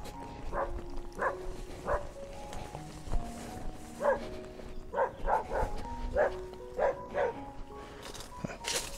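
A dog barks repeatedly at moderate distance beside a dirt road lined with rural homes near Da Lat, with sharp barks coming in irregular clusters over quiet background noise.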